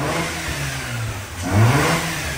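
A Mazda RX-8 rotary engine with low compression, just started after flooding, idles roughly and then revs up briefly, loud and close.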